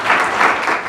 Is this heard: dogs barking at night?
no